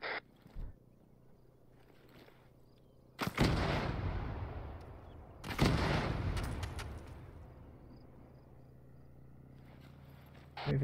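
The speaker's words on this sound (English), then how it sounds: "Mortars." Mortar fire in a military video game, with two heavy, close booms a couple of seconds apart, each followed by a rumbling decay, plus a few fainter distant thumps over a quiet background.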